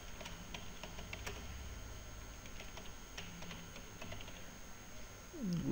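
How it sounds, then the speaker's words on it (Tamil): Steady, light clicking of keys on a computer keyboard runs through the whole stretch, close and fairly quiet over a faint room hiss, with no one talking. "டூல்ஸ்க்குள் வெப்மாஸ்டர் டூல்ஸ் அப்படின்னு டைப் பண்ணணும்"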